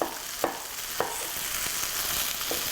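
Turkey searing in a hot pan gives a steady sizzle, punctuated by a few sharp clinks and scrapes of a utensil, close by with no talking.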